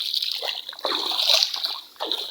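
Water flows from a farm irrigation channel fed by a pump, a close, steady rushing and splashing with some gurgling trickles.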